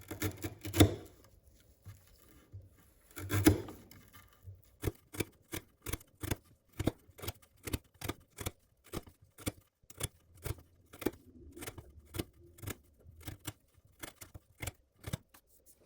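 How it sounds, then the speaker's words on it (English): A Kershaw Strata knife with a 4.5-inch blade slicing through 3/8-inch twisted sisal rope, giving about two spaced crisp cuts and then a steady run of sharp, close snapping slices at a brisk, even rhythm. "we're gonna cut some 3/8 twisted Sisal rope just to see how it slices and how it feels in hand when cutting"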